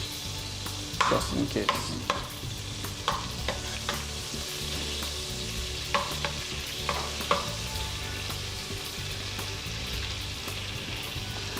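Chopped onion sautéing in butter with a little oil, a constant close sizzle broken by repeated scraping strokes of a spoon across the pan, with occasional brief words.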